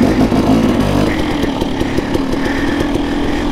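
A KTM 300 XC-W dirt bike is ridden on private property, its engine a loud, continuous, raspy drone that stays close and steady throughout.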